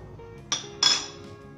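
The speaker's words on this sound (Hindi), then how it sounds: "चलिए दोस्तों, मैं डिश आउट करता हूँ" Jollof rice served from the pot onto a plate, with two bright metallic clinks of a spoon striking the dish, close and clear with no voices.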